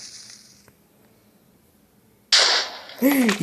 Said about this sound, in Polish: Nie spodziewałem się, że będzie aż taki wybuch.